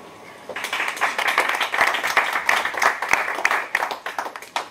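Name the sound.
audience applauding after a poem reading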